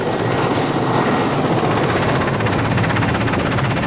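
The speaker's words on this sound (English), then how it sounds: "helicopter, like this Soviet-era workhorse, is the preferred means of transportation" A Soviet-era workhorse helicopter flies over Siberia, its rotor thumping in a rapid steady chop under a loud continuous engine roar from up close.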